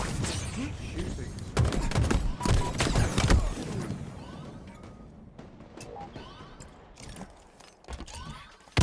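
Rapid bursts of gunfire crack out in close succession, loud and clustered in the first half, then thin into scattered, fainter shots, with voices talking at times.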